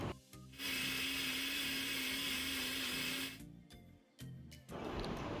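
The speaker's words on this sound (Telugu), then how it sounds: "కొంచెం కొంచెం వాటర్ వేస్తూ మిక్సీ పట్టుకోవాలి." Electric mixer grinder blending coconut pieces with water, a loud close whirring drone that runs for a few seconds, stops briefly with clatter, then restarts.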